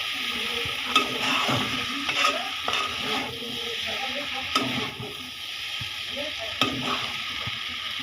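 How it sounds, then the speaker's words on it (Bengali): Mixed chow mein noodles sizzling in a pan while being stirred, a steady close fry with periodic scraping strokes of the utensil and faint voices in the background. "নুডলসটাকে নামায় ফেলবো তো একটু নাড়া দিয়ে নিই"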